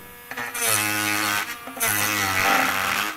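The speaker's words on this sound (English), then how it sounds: "now we have to use our Tork mini grinder to solve the problem" Tork Craft mini grinder sanding workpiece edges at speed setting 3, a loud steady high-pitched motor whine in two long bursts with a brief dip between them, close and alone.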